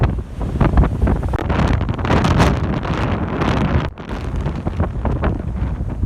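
Strong wind from Storm Ciara roars against the microphone while storm waves crash and surge nearby on the UK coast, loud and continuous with no voices.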